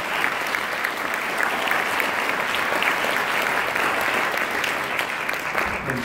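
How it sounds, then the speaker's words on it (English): A crowd at a high school concert gives a round of applause for a guest, a sustained, even roar of many hands clapping for several seconds. "Give him a round of applause."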